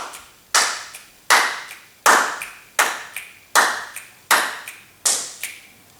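Steady, rhythmic hand clapping at an Irish-style dance flashmob in Wiesbaden: eight sharp, evenly spaced claps, close and clear, with no talking.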